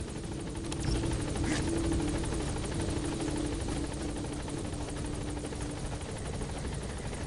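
Helicopter from the video game Metal Gear Solid V, a steady droning rotor hum with a rhythmic chop, held at an even level for several seconds with no talk.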